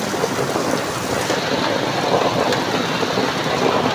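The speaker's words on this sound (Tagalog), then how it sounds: "Ang lakas ng ulan" Heavy rain pours down in a dense, steady roar, loud and close, with no voices over it.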